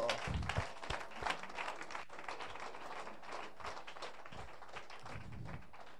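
A church congregation applauds. Uneven clapping and tapping carry on steadily from start to end at moderate volume, with a few louder thumps and faint voices.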